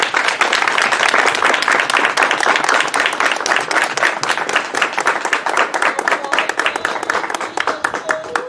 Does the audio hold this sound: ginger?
no